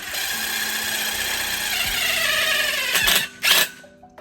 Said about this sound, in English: let's just try to drill new holes